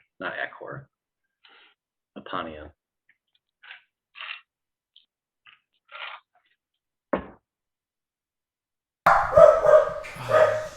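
Scattered dog barks and yips from a distance, quiet and intermittent, ending with a closer burst of loud barking.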